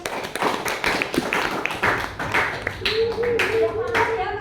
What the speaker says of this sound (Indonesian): Tepuk tangan dulu untuk Aulia.